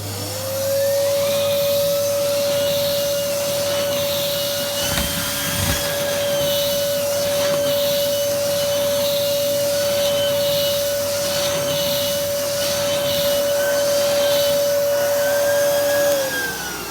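A Numatic NVQ250 chrome Henry cylinder vacuum cleaner with a turbo head runs steadily up close with a constant high whine over a broad rushing roar, starting up and winding down at the end.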